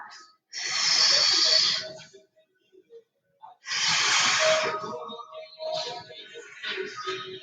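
Long, heavy breaths in and out, close and airy, during a Pilates exercise: two sustained exhales with a short catch between, followed by shorter breathy puffs and a faint voice near the end.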